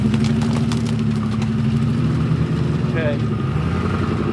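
A Ford car stuck in snow on slick clay gets light throttle, its engine humming and rising steadily close by beneath a continuous low rumble, while a person speaks briefly over it.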